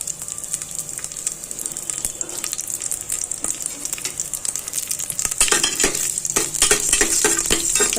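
A cinnamon stick, four cloves and a bay leaf fry in hot oil in a cooker, making a steady close sizzle that grows louder, with scraping stirs and clinks toward the end.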